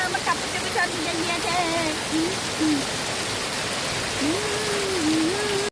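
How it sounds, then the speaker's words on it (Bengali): Heavy rain drums on a tin roof in a continuous, dense hiss, while a faint warbling tonal call rises and falls over the downpour. "প্রচুর বৃষ্টি হচ্ছে এই জন্য টিনের উপরে যে শব্দ হচ্ছে"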